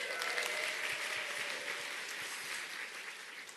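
An audience claps throughout at a business leaders' club recognition event, the applause strongest at the start and slowly thinning toward the end.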